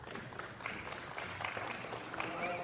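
Audience at a youth livestock show gives soft, distant applause, a thin patter of scattered claps mixed with faint crowd murmur and rustle in a large hall.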